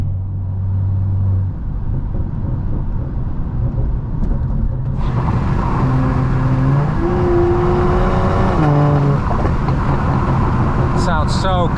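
A stage 2 tuned BMW M340i rumbles and revs while driving at night, the engine note rising and shifting through gears in a close, loud cabin recording with a person talking over it.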